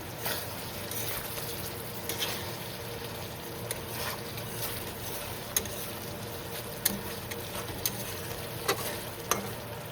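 Food is sautéed and stirred in a pan, giving a soft, steady sizzle with occasional light clicks of a spoon against the pan, quiet and close, with no talking.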